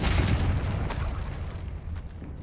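A Confringo blasting spell from Hogwarts Legacy explodes as a loud, sustained rumbling boom that fills the whole clip with low-end roar and crackling debris, slowly fading toward the end.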